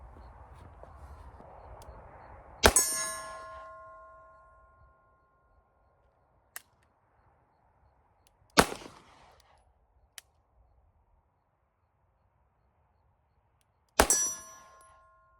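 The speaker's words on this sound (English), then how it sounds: "Let's do one more 3-shot group, double action only." Three sharp, loud shots from a Taurus TH9 pistol fired double action only on a range, spaced several seconds apart, each with a bright ringing tail and a few faint clicks between.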